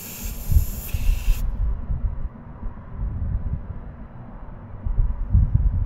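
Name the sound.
air hiss while screwing tire pressure monitor onto tire valve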